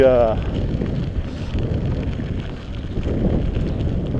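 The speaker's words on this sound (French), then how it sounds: "je me prends le vent en pleine façade" Steady headwind buffets a microphone on a cyclist riding outdoors, a rough rumbling rush that swells and eases without pause.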